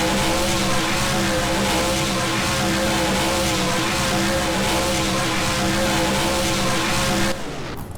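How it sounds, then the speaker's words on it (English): Blue Thunder, a monster truck in the BeamNG video game, spins donuts, its engine roaring loud and steady with tire noise, then cutting off abruptly near the end. "Looks like Blue Thunder is going to give us a donut here."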